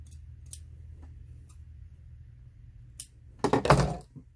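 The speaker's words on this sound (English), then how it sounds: "just doing little bitty snipping, little snips." A few sparse scissor snips cutting fabric for a handmade gnome doorknob ornament, faint early on, then a louder cluster of quick cuts near the end, with no talking.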